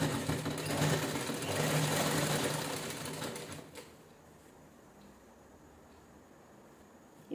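Sewing machine stitching the side seam of a jeans top cut from a sari, running steadily for about four seconds before stopping, leaving quiet room hum.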